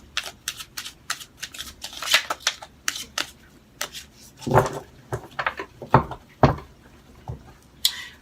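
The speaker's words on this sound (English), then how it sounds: "I'm going to shuffle 3 more times." Tarot cards being shuffled by hand in a series of quick, close riffling and tapping bursts that come in uneven rhythm, with a few louder slaps as the deck is squared near the end.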